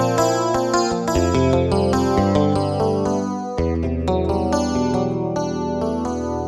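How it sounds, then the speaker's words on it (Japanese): Clean electric guitar tones from a Yamaha PSR-S670 keyboard play a flowing phrase, notes ringing into each other with echoing delay repeats and a spacious reverb tail. "ディレイとリバーブかかってますね。"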